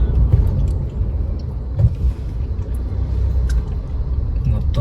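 Slow-moving holiday highway traffic with lorries and buses rumbles low and steady around a car on a Hyderabad-to-Tanuku drive, a continuous engine drone with a few brief louder thumps.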